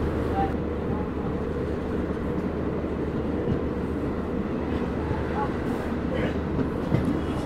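Train running from Banihal to Srinagar in Kashmir, passing Bijbehara station, a steady, continuous rumble and rattle of the carriages heard from on board, with faint murmuring voices under the noise.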